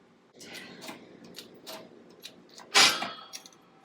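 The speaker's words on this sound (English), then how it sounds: "of the ball joint coming out." A sudden loud crack-like pop with a short rattling tail as a ball joint from a 1962 Cadillac front suspension pops out in a press, following a few quieter clicks and metallic ticks of tools being worked.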